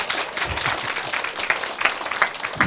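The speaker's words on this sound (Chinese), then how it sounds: "阿免拍手" An audience at a lecture session breaks into brief applause, with scattered close hand claps heard for a few seconds.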